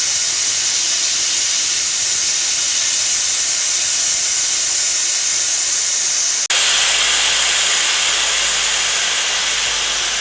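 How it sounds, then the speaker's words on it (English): A stove-top pressure cooker on an induction hob lets off a loud, steady hiss of steam as its pressure is released through the lid valve, continuous and close, with a brief break and shift partway through. "you just gradually lift it up until the pressure is released"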